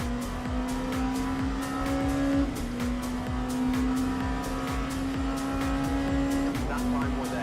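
An LMP2 prototype race car in the Le Mans Ultimate sim racing game howls at high revs, with repeated upshifts and tire squeal as it runs the track, loud and constant with talk mixed underneath.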